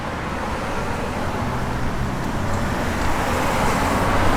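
A cammed, built 383 V8 in a 1965 Plymouth Sport Fury idles steadily with a low, continuous rumble, close and fairly loud.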